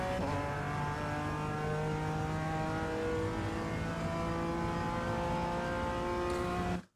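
BMW M4 G82 GT4 racing car in iRacing at Circuit Zolder, engine note dropping under braking into fourth gear; a steady, loud harmonic drone sustains throughout, then cuts off abruptly at the end, with no speech.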